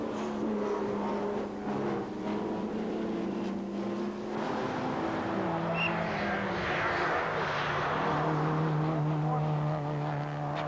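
Porsche and BMW M3 race cars on the Zandvoort circuit, engines droning loudly and continuously with shifting pitches as several cars pass close together, with no voices.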